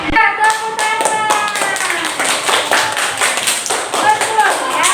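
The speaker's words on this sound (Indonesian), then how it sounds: "Ya, tepuk tangan." Classroom of pupils clapping hands together in a brisk, fairly loud burst of applause that carries on steadily, with a voice or tone rising above the claps at the start and near the end.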